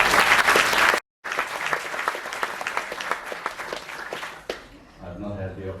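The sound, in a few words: audience applause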